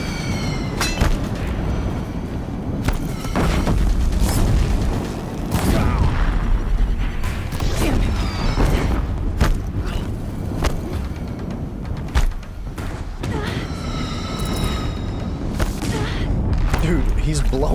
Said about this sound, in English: he's blowing up all the barrels too